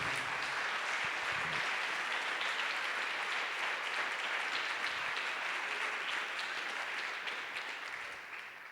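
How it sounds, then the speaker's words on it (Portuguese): A church congregation applauds during a worship service, a dense, steady wash of clapping filling the room for several seconds before gradually easing off. "Você pode aplaudir a Jesus, o príncipe da paz?"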